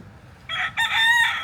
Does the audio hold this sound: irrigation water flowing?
no